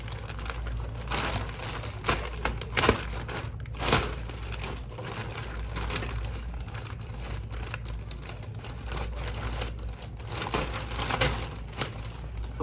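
Scissors cut open the plastic packaging around a Sprayground backpack, giving close crinkling, rustling and snipping that runs steadily for about twelve seconds with sharper crunches now and then.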